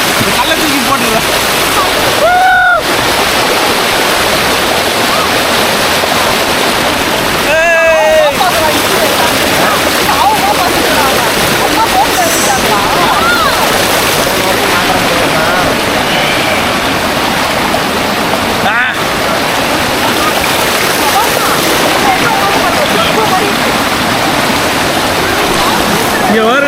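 Rushing water at Mathur Thotti Palam near Nagercoil, a steady loud broadband roar filling the whole stretch, with brief whistle-like chirps and voices breaking in now and then.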